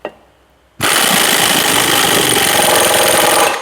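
A half-inch drive impact wrench with a 1-1/8 socket spins a piston nut onto a John Deere ProGator dump cylinder rod. After a brief click and a short pause, a loud, steady rattling hammer runs close up until the end.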